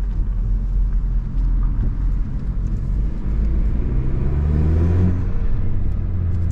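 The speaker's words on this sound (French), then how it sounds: "Et nous sommes partis pour l'essai du véhicule." A Renault Megane 4 RS Trophy with 300 horsepower pulling away on a road test: a loud, close, steady engine rumble and road noise with a rising rev toward the end, no talking.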